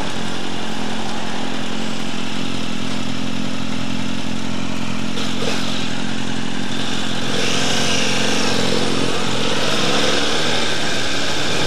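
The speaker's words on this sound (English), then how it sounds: "So we're just taking a good look at Dalton's bike here" A motorcycle engine runs loudly and close for the whole stretch, a steady raspy drone with a rise in revs toward the end, no voices.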